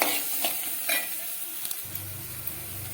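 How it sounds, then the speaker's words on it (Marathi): Onion tossed into a pan with roasted chili and peanuts sizzles loudly and evenly, with a few small clicks of stirring near the end. "मिरची आणि शेंगदाणं चांगलं भाजून घेतलं तर आता मा कांदा टाकून घेणार आहे"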